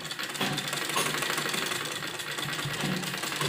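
A sewing machine stitches a seam on a child's kurti, a steady close mechanical whirr running continuously throughout without pauses.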